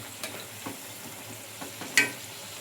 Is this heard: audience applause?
no